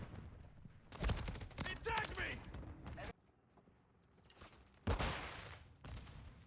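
Gunfire and a flashbang in Call of Duty: Modern Warfare III, heard as bursts of loud, sharp shots and a harsh blast, with a quieter gap between the bursts.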